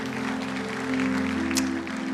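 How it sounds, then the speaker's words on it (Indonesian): A church congregation at a Gibeon Church Surabaya service claps for God, steady applause mixed beneath sustained, held musical tones that carry through the whole short stretch. "Yang percaya berikan tepuk tangan buat Tuhan."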